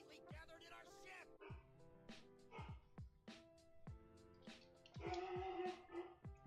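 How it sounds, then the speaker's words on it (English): A dog repeatedly barks in short sharp yaps and whimpers, fairly close, with voices and other room sound mixed in during a live card shop stream. "Dog's freaking out."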